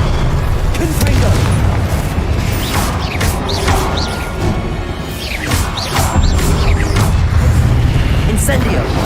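Confringo explosion spell in the Hogwarts Legacy video game amid hectic combat: repeated loud booms and crashing impacts tangle with mechanical clatter and bursts of shouting across a dense, continuous battle din.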